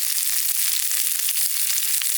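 Meat sizzles and crackles steadily in a pan over a campfire stove at a lakeside campsite with onions, a dense continuous frying hiss with small pops throughout, close and fairly loud, with no voices.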